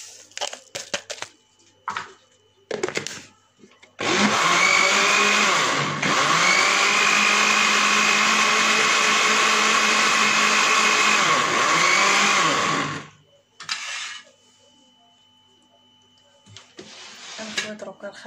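An electric blender beats a milk and vanilla mixture in a loud, steady whirring run of about nine seconds. Short bursts of clatter and quiet come before and after it.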